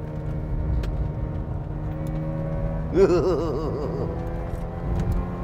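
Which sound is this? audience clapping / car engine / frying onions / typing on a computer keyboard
car engine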